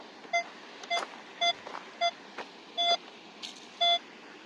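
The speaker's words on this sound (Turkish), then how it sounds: "Bakın ses veriyor." A metal detector gives a series of short, irregular electronic beeps over mineral-rich rock by a stream, clear and close, with faint outdoor noise between them.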